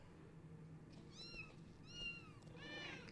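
Cats meowing in Final Fantasy XIV: three separate mewing calls rise over a steady low game ambience, the last one slightly louder and longer.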